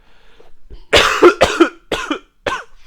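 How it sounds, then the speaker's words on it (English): Several loud, harsh coughs from one person, close up, coming in bursts after a faint lead-in, with no talking. "I apologize for the coughing"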